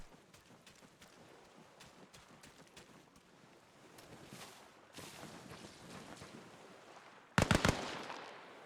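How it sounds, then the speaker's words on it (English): Gunfire in ArmA Reforger on the rocky island of Kolguyev: faint distant pops scattered over quiet ambience, then a loud cluster of three or four sharp cracks close by near the end. "He's shooting through the rock at me."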